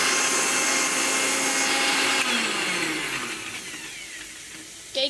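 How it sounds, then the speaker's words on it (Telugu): A kitchen mixer grinder (mixie) runs loud and steady for about two seconds, then its motor winds down and fades over the next few seconds, with a brief clatter near the end. "అక్కడ మిక్సీ పడుతుంది"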